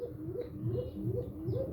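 Pet Coca pigeons coo softly in a loose, repeating rhythm close by, the calls rising and falling near their young chicks.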